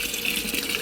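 Water pouring into a washing machine drum as a steady, close gush, filling the tub with a continuous rushing hiss and no voices.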